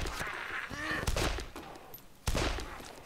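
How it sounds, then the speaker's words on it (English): Revolver shots in the DayZ mod zombie game, two sharp bangs standing out over a busy, noisy game soundscape with no talk. "I'm going to use my revolver"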